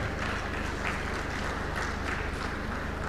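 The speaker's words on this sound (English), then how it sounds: "May I request all the men in the audience to clap for the women" Men in an audience at a Women's Day event clap together in dense, steady applause that holds evenly the whole time, with no voices rising above it.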